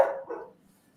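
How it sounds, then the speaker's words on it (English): A pet dog heard in the background of a live online chat gives one short bark followed by a softer second yelp, fairly close, then quiet. "Is that your dog, Eric?"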